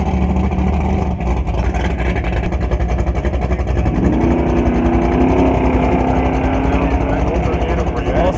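A 2013 BMW drag car at a drag strip rumbles loudly and steadily, its engine note rising partway through, over crowd noise and an announcer's voice.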